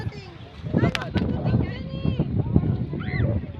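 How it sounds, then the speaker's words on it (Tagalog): Strong wind blows over open sea around a small boat, a rough, gusting rumble that stays under a person speaking for the whole stretch. "so masasabi ko ngayong araw malakas ang hangin"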